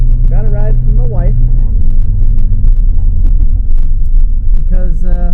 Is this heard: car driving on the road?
yes